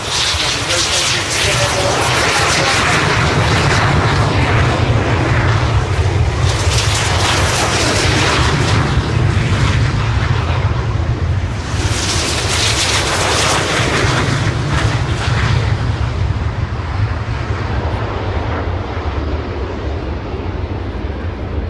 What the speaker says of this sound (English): These engines now power them up, accelerating through about 100 miles an hour already.